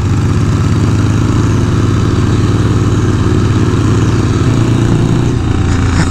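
Harley-Davidson Dyna and Sportster motorcycles being ridden through the Catskills in fall, with a loud, continuous rumbling engine drone and constant road and wind noise, no voices.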